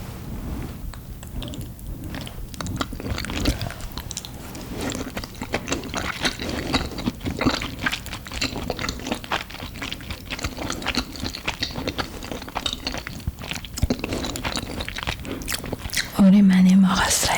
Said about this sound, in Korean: 오늘 만든 마카로니 샐러드 먹어보겠습니다.